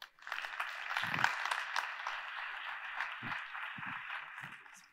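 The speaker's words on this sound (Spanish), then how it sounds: "Un fuerte aplauso" An audience applauds at a physiotherapy conference panel session. Sustained applause sounds soft and somewhat distant for about five seconds, with a few low thumps and bumps over it.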